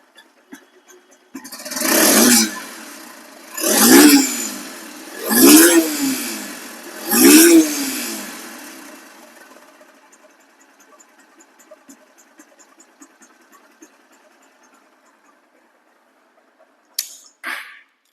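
A 2022/23 Honda X Blade motorcycle engine roars through four loud, evenly spaced revs close by, then drops to a faint, settling idle before a brief click near the end.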